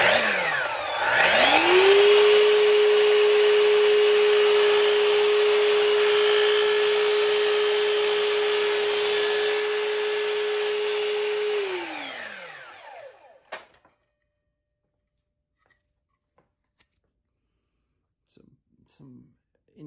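A power tool grinds a small bevel on a Browning Auto 5 custom shotgun build, a loud steady high whine that spins up, holds for about ten seconds, then winds down, followed by a few faint clicks.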